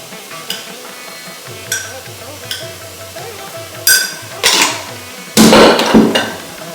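Spices being stirred in a pot while making one-pot lamb biryani with chili and coriander powder: light scrapes and clinks of the spoon against the pot, building to louder, busier scraping near the end.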